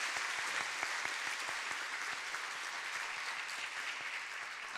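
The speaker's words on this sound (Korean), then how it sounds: "박수하겠습니다" A church congregation at a Sunday morning worship service applauding to welcome a pastor, a dense, steady wash of clapping from many hands filling the room throughout.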